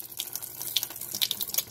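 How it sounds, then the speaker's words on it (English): Rinse water being poured off washed rice in a home kitchen, a faint trickling and splashing with scattered small drips and patters, heard alone and close. "Pouring the water away again."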